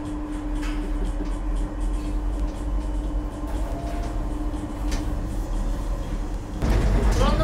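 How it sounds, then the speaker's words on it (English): The Alton Towers monorail train rumbles steadily along, with a continuous low drone and a faint hum, and a louder rush of noise near the end. "I'm just about to head onto the monorail train itself."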